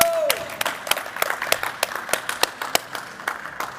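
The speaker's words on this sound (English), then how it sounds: "Everyone, give him the clap." A small conference audience clapping at a steady pace, individual claps distinct and fairly close, sounding like sparse polite applause.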